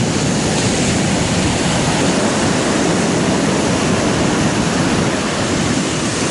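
Ocean surf breaks and roars continuously at the shoreline where a small robot boat is launched, a loud, dense wash of noise lasting throughout with no voices.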